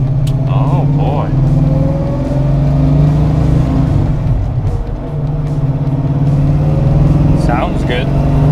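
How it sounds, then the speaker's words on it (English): A 1979 Camaro Z28 engine hums steadily from inside the cabin while driving, a low continuous drone with slight rises in revs, with people talking over it. "we're driving a sweet Camaro"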